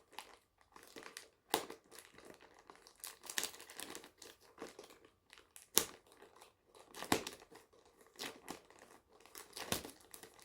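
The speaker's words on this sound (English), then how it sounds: "I have to make a hole in to start cutting it here." A mail package is cut open at close range with crinkling and tearing of packaging plus scattered snips and crunches in an irregular run of quiet, sharp bursts.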